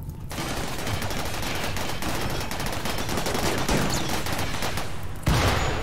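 Dense, continuous gunfire from heavily armed mechs in the RimWorld video game, a loud sustained fusillade of rapid shots and impacts filling nearly the whole stretch, with a brief lull and a sharp burst near the end.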